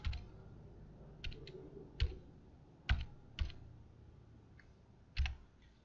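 A computer keyboard clicks in a quiet room with a handful of separate key presses spaced irregularly, some sharper and louder, with no talking.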